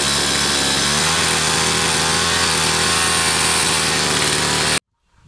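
A motorized earth auger's small two-stroke engine runs loud and steady in a garden, a buzzing drone with slight pitch wavering that stops abruptly near the end, leaving near silence.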